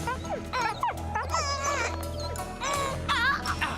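Cartoon dingo, a wild dog, yelping and whimpering in a series of short high yips and whines over a steady musical background, fairly close and clear.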